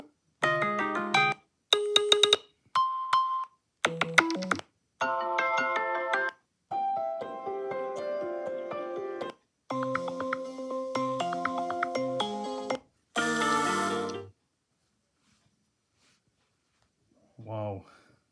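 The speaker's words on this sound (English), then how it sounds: "Let me know what you guys think about the iOS 17 ringtone." An iOS 17 iPhone ringtone with a chiptune, Sega Sonic game-like character plays as a series of bright, tonal melodic bursts in short phrases, loud and clean, then falls silent before a brief final chime.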